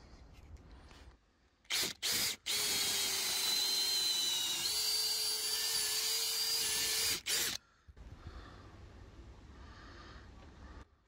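A power drill drives bolts into the top rail of a garden pergola, with a couple of short trigger blips followed by one long steady high whine lasting about five seconds, close and loud, then a quieter hiss of background noise afterward.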